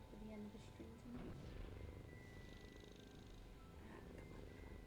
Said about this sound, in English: so we can listen to the purrs while I do this